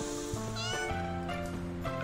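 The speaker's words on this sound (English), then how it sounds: "Why are you meowing for? Stop your infernal meowing." A cat meows repeatedly in the Escape Simulator video game, several loud, close, harmonic cries running back to back over game background sound.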